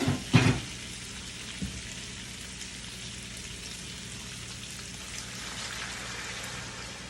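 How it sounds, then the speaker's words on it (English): Broth is poured into a hot pot of cooking pancit bihon, a sharp splash and sizzle burst at the start, then settling into a steady, fairly quiet simmering bubble. "Now let's add our broth."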